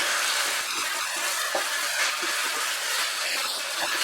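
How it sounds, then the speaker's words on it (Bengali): Cauliflower and spices sautéing over a high flame for cauliflower korma give off a steady, continuous sizzle that holds at an even level throughout, with no voices. "হাই ফ্লেমে এবার আমি কষাবো"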